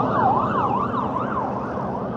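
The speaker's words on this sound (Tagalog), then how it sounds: "Ambulansya." Ambulance siren wailing in a steady rising-and-falling cycle, close and clear over road traffic rumble.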